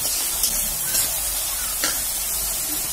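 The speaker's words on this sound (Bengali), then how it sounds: "মশলাটা কষাতে কষাতে যখন তেল উঠে আসবে তখন বেগুনটা দিয়ে দিতে হবে।" Spice paste being fried and stirred in oil for a charred eggplant chutney, giving a steady close sizzle and hiss with a few faint scrapes and stirs, no voices.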